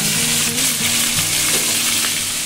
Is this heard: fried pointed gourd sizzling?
yes